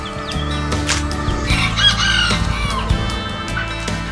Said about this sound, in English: I've never got a chance to pose with some turkeys